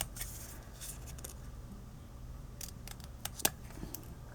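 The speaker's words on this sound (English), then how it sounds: "then I'm just going to go in and cut a little banner" Scissors snip a small paper banner for a New Year's gift treat box, a few quiet, close cuts scattered over a soft background with no talking.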